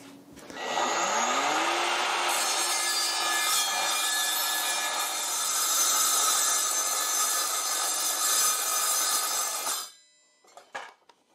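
A power saw cuts steadily through 4 mm steel plate during a roller stool repair, a loud continuous grinding whine that rises in pitch at the start, then stops abruptly with a few faint rattles after.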